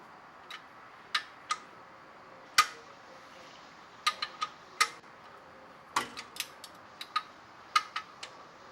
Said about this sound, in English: Set the torque wrench to 25 foot-pounds and tighten until click is heard.